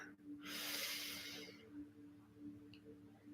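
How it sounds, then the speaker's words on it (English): A single deep breath is drawn in slowly through the nose, close and soft, as a guided relaxation begins, with a gentle hiss of air that fades into quiet room tone. "begin with just taking some deep breaths in"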